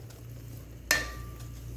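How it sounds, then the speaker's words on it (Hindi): Bread halwa is stirred with a spoon in a pan over a medium flame, giving a quiet, steady scrape and soft sizzle with one sharper clink of the spoon against the pan partway through. "चमचा आपने मुसलसल हिलाते रहना है"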